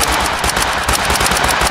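Rapid bursts of gunfire from Totally Accurate Battle Simulator rattle off in a quick, steady rhythm, loud and close, with no talk.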